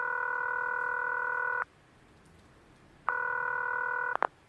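Telephone ringing as a radio play sound effect: two long steady electronic rings separated by a pause of about a second and a half, clear and fairly loud, with a brief click as the second ring stops.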